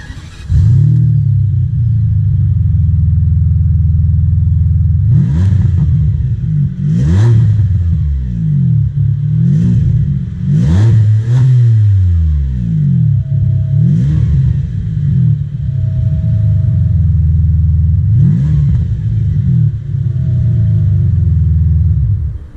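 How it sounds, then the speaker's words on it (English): A Ferrari 575M Maranello with its front-mounted engine drives on the road, a loud constant engine rumble swelling repeatedly through rising and falling revs as it works through the gears, heard from inside the car. "So let's hop on the road in this gorgeous 575, and let's take it for a spin."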